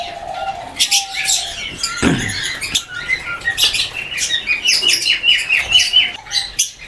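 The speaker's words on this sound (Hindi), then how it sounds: "ये सोहेल भाई अल्बाइनो रेडाइज टू रेडाइज का ब्रीडर पेयर है" Albino red-eyed lovebirds, an aged breeder pair in an aviary setup, chirping in dense, loud, overlapping high tweets and chatter, with a brief thump partway through.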